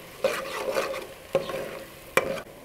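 Finely chopped carrots sizzle in hot oil with the onions while a spatula scrapes and stirs them in three distinct bursts, close and clear with no voice.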